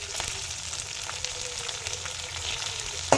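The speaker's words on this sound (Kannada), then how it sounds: "ನಂತರ ಅದಕ್ಕೆ ಸಾಸಿವೆ, ನಂತರ ಹಸಿಮೆಣಸು ಮತ್ತು ಕರಿಬೇವು, ಸ್ವಲ್ಪ ಅರಿಶಿಣವನ್ನು ಹಾಕ್ಕೊಳ್ತಾ ಇದ್ದೀನಿ" Mustard seeds, green chilli and curry leaves sizzle and crackle steadily in hot oil, with a few small pops throughout and no voices.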